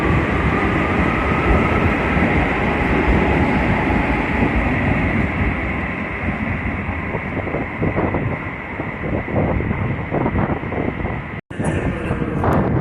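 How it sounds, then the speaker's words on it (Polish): An intercity passenger train arrives at Wrocław Główny station, rumbling steadily close by, a broad continuous roar with wind buffeting, clattering building in the second half before a brief drop and high squeal. "Intercity Matejko ze Szczecina Głównego do Krakowia Głównego. Wyjeżdża na peron trzeci"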